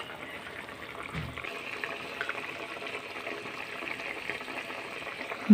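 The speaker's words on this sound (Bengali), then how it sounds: "মাছের ঝোল বেশ ভালোভাবেই ফুটে উঠেছে" Fish curry simmering in a pot, giving a soft, steady bubbling and low hiss that runs on evenly with no one speaking.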